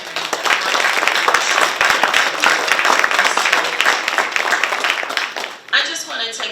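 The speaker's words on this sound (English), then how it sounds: "Everyone, let's give a round of applause to Angele for sharing that" Audience at a Black History Month celebration giving Angele a round of applause, brisk close clapping filling most of the clip before it cuts off, with a voice starting to talk at the end.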